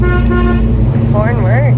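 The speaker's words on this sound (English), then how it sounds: "The horn works." A 1970 Chevrolet Chevelle SS horn sounds in one loud, steady, sustained blast close by, while a voice rises over it toward the end.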